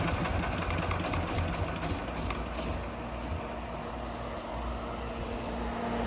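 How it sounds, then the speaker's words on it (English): A diesel engine on a full hydraulic DTH drilling rig runs at a steady, close, mechanical idle throughout, a continuous rumble with a faint rattling texture and no clear stop. "Turn off the throttle and the machine turns off."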